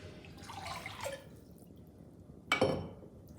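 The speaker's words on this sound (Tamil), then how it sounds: "நான் இன்னும் கொஞ்சம் தண்ணி விட்டுறேன்." Water poured into tamarind water for pepper rasam splashes in two short bursts, a softer pour and then a sharper, louder splash, close by and without talk.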